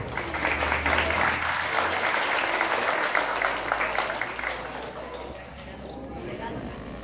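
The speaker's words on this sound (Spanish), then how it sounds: "Fuerte el aplauso para él." Loud applause from an audience at a primary school closing ceremony in Acapulco, dense clapping that swells early and then tapers somewhat toward the end, with a low hum of background noise beneath it.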